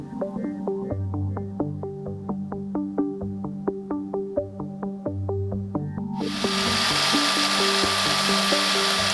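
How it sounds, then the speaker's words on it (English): A bandsaw profiles a steel blank for a Persian fighter knife, first a steady tonal motor drone with rhythmic ticking, then a loud hiss from the cut that takes over for the last few seconds. "I really enjoy this bandsaw setup my dad built. The bandsaw itself, though, it's one of the loudest pieces of equipment in the shop."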